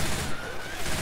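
Rapid gunfire spraying bullets in the video game Left 4 Dead 2, a loud, continuous fusillade with no pauses, with a voice partly underneath.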